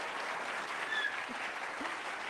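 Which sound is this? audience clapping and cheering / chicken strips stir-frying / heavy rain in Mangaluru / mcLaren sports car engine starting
audience clapping and cheering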